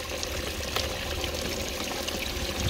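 Water runs steadily down a channel on a New Zealand homestead, a continuous close splashing pour with an even, unbroken flow and no voices.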